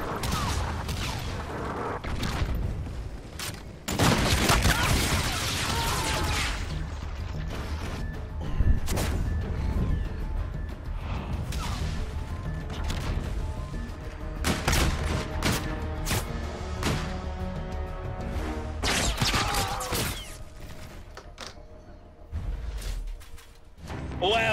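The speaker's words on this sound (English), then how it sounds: "Ally Trinity rocket has arrived on site" Rocket strike and heavy combat in Call of Duty: Infinite Warfare multiplayer, with loud dense bursts of gunfire, crashes and explosive booms running almost continuously near and loud, and voices occasionally over the din.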